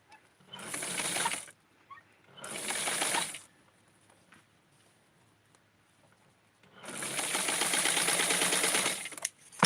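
A sewing machine stitches lace in three bursts, two short runs and then a longer steady whir, with a rapid mechanical needle clatter between quiet pauses.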